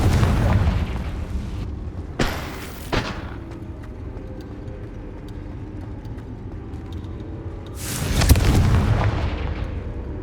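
Confringo fire spells burst in the video game Hogwarts Legacy, three deep booming blasts at the start, middle and end over a rumbling low game background.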